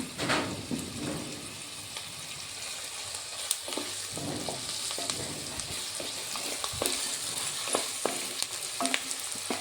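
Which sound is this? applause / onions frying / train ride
onions frying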